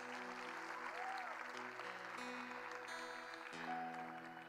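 Congregation applause at a Catholic preaching gathering in Paranavaí, a steady wash of clapping running beneath sustained keyboard or organ chords that shift in pitch, fairly full and continuous throughout.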